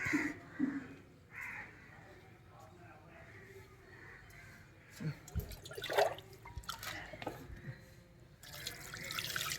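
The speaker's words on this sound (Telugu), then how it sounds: "నీళ్ళు పోయాలి" Water is poured into a pot of mutton curry, giving splashy, trickling bursts that come and go among people talking nearby.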